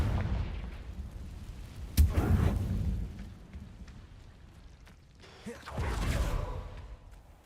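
Confringo blasting spell explosions from a magic video game: a sharp booming blast followed by a rumbling tail, then a second, softer burst some seconds later, both close and forceful.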